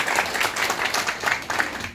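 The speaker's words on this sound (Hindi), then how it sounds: "इसके लिए तालियां बजाइए" An indoor audience at a peace committee meeting claps steadily, a dense, even patter of many hands that holds at moderate loudness throughout.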